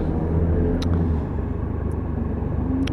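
Triumph Tiger XC 1215cc motorcycle rolling slowly in first gear, a steady low engine rumble with wind buffeting, close and continuous, with a few brief clicks.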